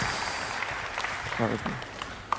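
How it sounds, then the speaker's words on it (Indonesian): Congregation at an Indonesian church service clapping for three young people, a moderate spatter of applause with a voice speaking briefly over it. "Boleh tepuk tangan untuk 3 anak muda."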